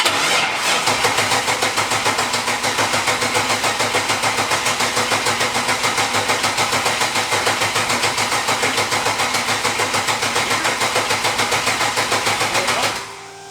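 A twin turbo V8 Mustang engine cranks on its first start attempt, the starter turning over in a fast, steady rhythmic churn for about thirteen seconds before stopping, loud and close.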